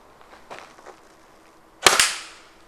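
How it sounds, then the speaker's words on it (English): A Pocketshot slingshot fires a paintball: two sharp, loud snapping cracks close together with a fading ring, after some soft handling sounds. "you can also use this to shoot paintballs."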